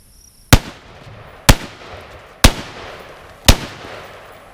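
Four 5.56 NATO rifle rounds with 55 grain full metal jacket spear point bullets fired through a washer and dryer, each a sharp loud crack with a short decaying tail, spaced about a second apart.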